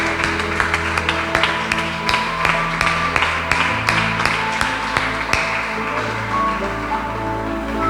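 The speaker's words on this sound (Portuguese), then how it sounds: "Dê uma linda salva de palmas ao Rei Jesus." Church congregation applauding together, a dense, steady wash of many hands with sharp individual claps standing out, sustained for the whole stretch at a fairly loud level.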